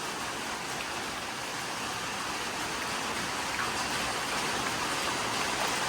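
Steady monsoon rain hisses evenly throughout during flooding in Kottayam, Kerala, a soft continuous patter with no voices or other sounds.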